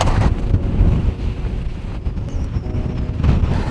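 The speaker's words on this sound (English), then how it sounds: "It's days like today when we're fighting the wind" Strong outdoor wind buffets the microphone in steady, loud low rumbling gusts while fruit tree saplings are planted in a permaculture orchard, with no talk.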